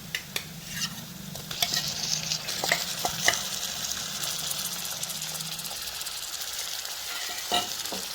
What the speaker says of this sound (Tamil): ஆனியன் நல்லா கோல்டன் ஃப்ரை ஆகிடுச்சு. இதில் வந்து நம்ம எடுத்து வச்ச ப்ரான் ஆட் பண்ணிடுவோம்.